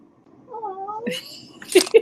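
A cat gives a short meow, followed by brief vocal sounds and a couple of sharp bursts, fairly close with no clear talk.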